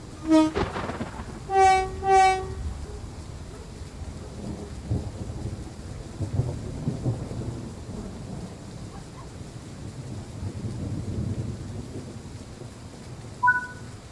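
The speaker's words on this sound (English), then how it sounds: "clearly hear thunder." Thunder rolls as a long, low, steady rumble through a Train Sim World 3 rail scene, opening with a couple of short tonal horn blasts before the deep rumble carries on alone.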